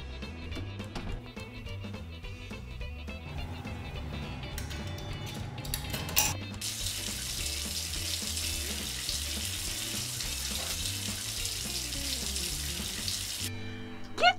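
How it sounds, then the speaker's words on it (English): Shower water running in a coin-operated RV park shower stall, a steady hiss of spray that grows fuller partway through and continues alone without talk. "let's go hit the showers"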